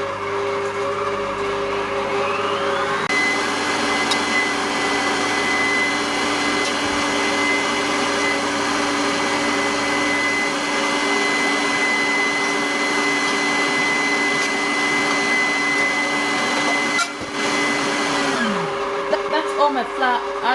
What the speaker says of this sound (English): I'm now going to stop my mixer